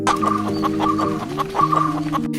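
A rooster clucks in short, repeated bursts up close, set against a sustained tonal hum.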